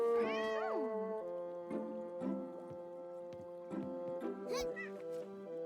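Meowing from a cat in the claymation-style tactical roguelike game Dobbel Dungeon, several rising and falling meows over game music, with a voice talking over it.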